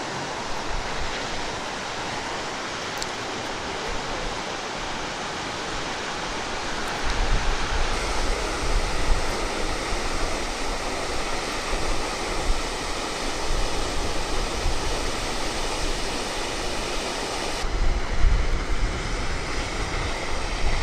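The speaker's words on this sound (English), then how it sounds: "got a little water coming out over the fall" Water pours steadily over Clearwater Creek Falls, a small waterfall at the headwaters of the Rio Grande, as a broad continuous rush that swells louder partway through, with no talk over it.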